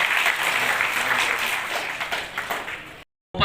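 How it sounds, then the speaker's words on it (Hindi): A large audience at a community convention bursts into sustained, loud applause for a guru, with dense continuous clapping that goes on for about three seconds before cutting off abruptly. "एक बार जोरदार आप सबसे आगे जोरदार ताली बजाकर गुरुदेव को"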